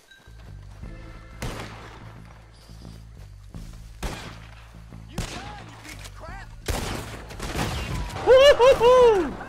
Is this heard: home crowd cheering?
no